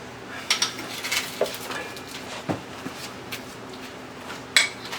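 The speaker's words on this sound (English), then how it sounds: "So I'll need to hammer my bearing in" Hammer strikes seating a wheel bearing into a Ford F150 9.75-inch differential, heard as a series of sharp metallic taps at irregular intervals in a quiet shop.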